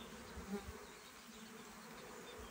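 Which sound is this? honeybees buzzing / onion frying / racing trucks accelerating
honeybees buzzing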